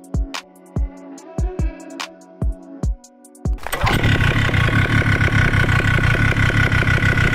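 A Vittorazi Moster 185 paramotor engine ticks over with a few uneven pops, then picks up and revs steadily at higher RPM, loud and close with a dense buzzing drone and no talking.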